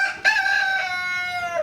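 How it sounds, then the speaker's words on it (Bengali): A tiger breed rooster crows once, close and loud, in a long drawn-out call that holds steady before tapering off. "এটা হচ্ছে আমার অরিজিনাল টাইগার মুরগির প্যারেন্টস।"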